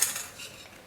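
A spoon stirs green tea with lemon and honey in a glass, giving faint, quick metallic clinks and light swishing, close by with no voices.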